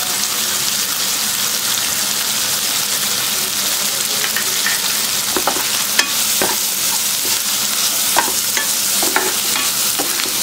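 Onions and green chillies with turmeric sauté in a pan, keeping up a loud, even sizzle broken by sharp scraping and tapping of a spoon against the pan.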